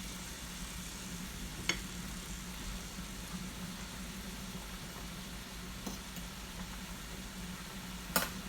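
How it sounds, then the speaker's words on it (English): Butter sizzles quietly in a stainless steel pan for a mushroom stroganoff, a faint, even frying hiss with a steady low hum beneath and a couple of light clicks of the stirring utensil. "Get that butter all mixed around, covering this."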